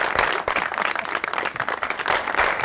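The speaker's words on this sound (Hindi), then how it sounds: "बहुत सही तालियां" An audience at a talk show applauds in a dense, continuous burst of clapping that stays loud and close for a few seconds.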